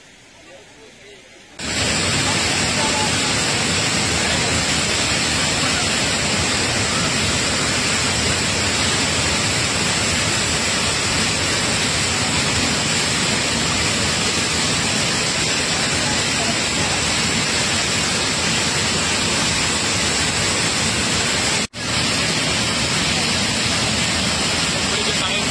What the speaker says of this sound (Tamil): ஜலகம்பாறை நீர்வீழ்ச்சியில் தண்ணீர் ஆர்ப்பரித்து கொட்டுகிறது